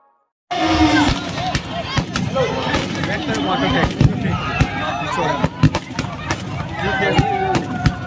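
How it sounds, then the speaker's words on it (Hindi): Fireworks at a Dussehra Ravana effigy burning crack and pop repeatedly over a noisy crowd, with sharp bursts scattered throughout and a steady festive din underneath. "रावण दहन के समय भव्य आतिशबाजी की गई।"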